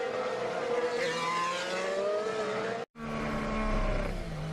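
A Formula 1 car, driven by Max Verstappen, spins at a corner, its engine note sliding and tires screeching loud and close, followed by a brief cut and renewed engine roar.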